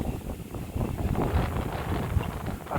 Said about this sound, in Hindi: आज से ठंड बढ़ गई है और हवा चल रही है बहुत तेज